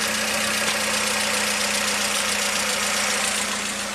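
A 1987 Toyota MR2 engine with a hot no-start fault idles steadily after a throttle blip, a close, even mid-pitched hum running throughout with no talking.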